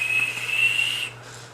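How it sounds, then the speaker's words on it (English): A rebuildable dripping atomizer (RDA) vape with a slightly misplaced coil gives a thin, steady, high-pitched whistle while the user draws, stopping abruptly near the end with a low hum underneath. "If you got the coils just a little too high or just a little too low, it will whistle a little bit."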